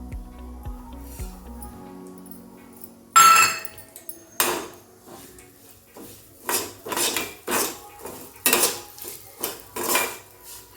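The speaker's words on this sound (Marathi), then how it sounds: "त्यामध्ये आपण हा दलिया घालायचा आहे आणि तो थोडा असा खरपूस भाजून घ्यायचा आहे" Broken wheat (dalia) roasting in ghee in a pan for wheat kheer, stirred with a utensil: quiet at first, then a run of sharp metallic scrapes and knocks against the pan in an uneven rhythm, close and fairly loud.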